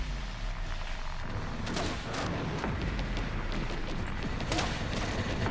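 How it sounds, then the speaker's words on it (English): A mortar shot in Resident Evil Requiem, a deep boom and thud within dense rumbling battle noise, with scattered sharp crack-like hits and one louder burst near the end. "I want to know where that mortar shot just came from."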